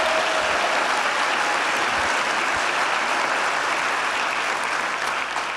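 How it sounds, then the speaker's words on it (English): Audience at an Ignite Seattle speaker event applauds the organizing team: a sustained, even wash of many hands clapping that holds steady for several seconds without talk. "Let's give them a round of applause for all the work they do."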